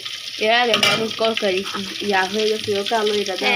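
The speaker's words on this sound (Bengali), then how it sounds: "এটা হচ্ছে মাছের কলিজা ভেজে ফেলছি" Fish liver sizzles and crackles as it fries in a pan, a steady hiss with a voice talking over it throughout.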